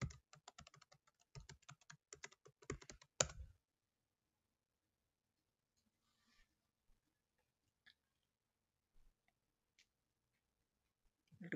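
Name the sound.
typing a password on a computer keyboard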